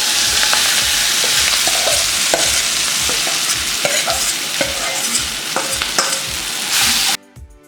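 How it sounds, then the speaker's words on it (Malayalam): Sweetish mango pieces tumble into hot oil where mustard seeds have already popped, for a coconut-milk mango curry. A loud, steady sizzle with scraping stirs and crackles runs throughout, then cuts off abruptly near the end. "ഇപ്പം കടുക് പൊട്ടിയിട്ടുണ്ട് എണ്ണയിൽ."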